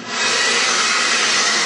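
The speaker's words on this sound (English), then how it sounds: "with this hairdryer, we're going to simulate heat coming out of the vent" A steady, loud, close blowing whoosh starts abruptly and holds evenly, a hairdryer running on high, blowing heat onto a temperature sensor.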